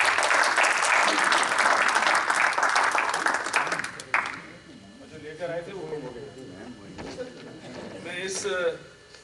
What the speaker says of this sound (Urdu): آپ کی زوردار تالیوں میں